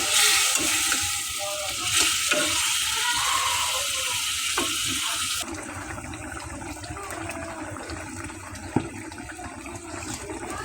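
Small Padma River hilsa fish sizzle in a pan with ground spices and onion. A loud, bright frying hiss runs under stirring scrapes, then settles into a softer, steady crackle with one sharp clink near the end.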